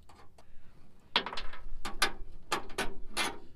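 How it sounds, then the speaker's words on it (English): A bolt being worked off a truck part gives a string of sharp metallic ratcheting clicks in uneven bursts, close and moderately loud. "I'm gonna take the bolt off of it"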